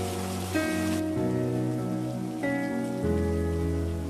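Steady rain falls and patters on surfaces, a constant soft wash under layered sustained musical tones that change a few times, with no talking.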